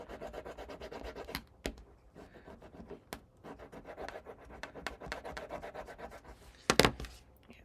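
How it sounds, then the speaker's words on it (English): Paper being burnished by hand while rotated, soft irregular rubbing and scratching strokes close by with a few sharp taps and crinkles, with no talking. "I will just burnish as I rotate this"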